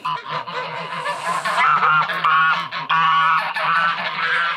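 Loud, close geese honking continuously, several birds calling over one another in a harsh, insistent chorus at a village in Karavelovo, Bulgaria.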